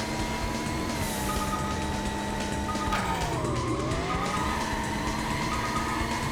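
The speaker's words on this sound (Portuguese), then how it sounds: "Agora eu acertei o drift." A race car drifting in the Sega arcade racer Scud Race, its engine droning steadily while the tires squeal through a long slide, pitch dipping and rising as the car swings through the corner.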